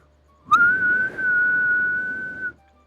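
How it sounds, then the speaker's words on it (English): A person whistles one sustained, slightly wavering note for about two seconds, fairly loud and close, with a steady breathy hiss underneath and no talking. "Ah, I can't whistle"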